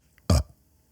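A single short, loud burp, close and alone against near silence.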